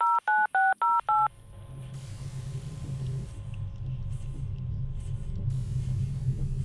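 A telephone number is keyed in as five quick, evenly spaced dial-tone beeps, then a low rumbling hum and faint background noise carry on steadily afterward.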